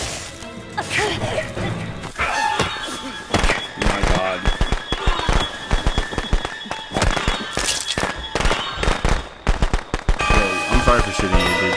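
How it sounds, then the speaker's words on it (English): Rapid gunshots from the horror video game Friday the 13th crack in dense, irregular bursts over game music and noise, while players talk throughout. "I'm sorry for shooting you, bro."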